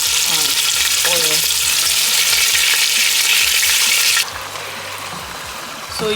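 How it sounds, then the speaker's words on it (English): Beef pieces frying in hot oil in a pot for beef soup: a loud, dense, continuous sizzle with occasional stirring scrapes, easing to a softer sizzle near the end, no talk. "So now we're going to add the meat to the oil."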